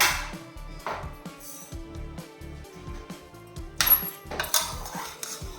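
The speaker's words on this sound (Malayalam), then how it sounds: "ഒരു കുറേ മത്തങ്ങ കഷ്ണങ്ങൾ നമ്മൾ സ്പൂൺ വെച്ചിട്ട് ഇങ്ങനെ മാഷ് ചെയ്ത് കൊടുക്കാം" A metal spoon scraping and knocking against the inside of a pressure cooker while mashing soft cooked pumpkin pieces, a run of close, irregular clinks and taps, with a few sharper, brighter scrapes near the end.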